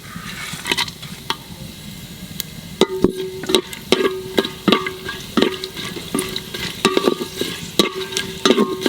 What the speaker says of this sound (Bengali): ঘির মধ্যে কটা গোটা মশলা দেবো, জিরে, তেজপাতা, শুকনো লঙ্কা, লং, দারচিনি, এলাচ।